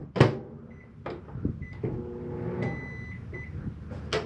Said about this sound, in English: You got a self-explanatory microwave.